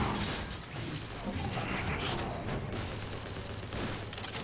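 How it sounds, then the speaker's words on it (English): Fusion cannon blasts against Autobot soldiers in the Transformers War for Cybertron video game make a dense, continuous barrage of booming, crackling fire with mechanical noise, loud and sustained throughout. "Go ahead and just blow them away with the fusion cannon"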